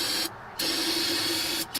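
Brake cleaner is sprayed from a can onto a 10-bolt rear axle during a Cutlass disc brake conversion. It gives two loud, close, steady hissing bursts, the longer one lasting over a second, followed by a short puff.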